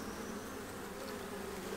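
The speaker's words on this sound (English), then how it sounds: "Those bees are not happy." Agitated honeybees drone in a hive opened during a beekeeping check, a dense continuous buzz that is steady, close and fairly quiet, heard alone without talk.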